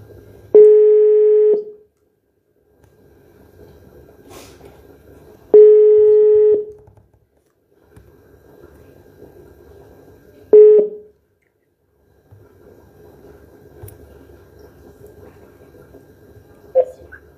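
A telephone plays a few dialing tones, each a steady beep lasting about a second, with gaps of quiet line noise between them.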